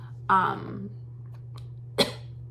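A single short cough, triggered by the scent of a patchouli wax melt, followed by a quieter throaty burst a moment later, close up over a low steady hum.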